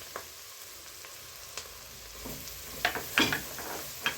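Onions sautéing in a pan, a quiet sizzle with a few sharper crackles and spatters toward the end, no talk.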